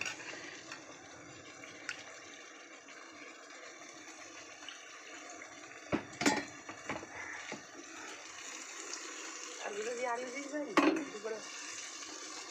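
A spice bowl is rinsed and the water poured into a pan of cooking chicken masala, a faint trickle under a low kitchen hum, broken by a few sharp clinks of the bowl near the end.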